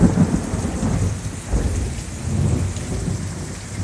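Thunder rumbles with heavy rain in a severe thunderstorm in Tarrant County in late May, a low continuous roar with swelling rolls about halfway through and again near the end, close and loud throughout.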